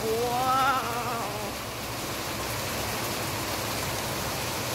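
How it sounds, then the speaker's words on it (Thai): Continuous rain falling in Bangkok, Thailand, a soft even hiss, with a brief voice-like tone at the start. "ใครชอบบรรยากาศฝนตกมั่งว้าว"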